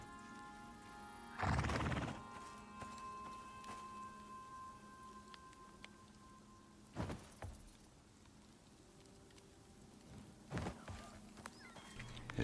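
A horse in the survival video game Icarus whinnies loudly once near the start, then its hooves clop in short bursts at intervals, set against a faint steady background.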